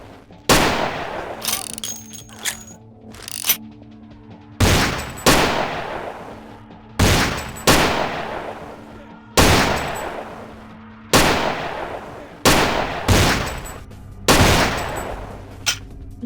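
Weapon shots from Vampire: The Masquerade – Bloodlines, loud sharp bangs fired one at a time about a second apart, each with a short decaying tail, over a faint hum.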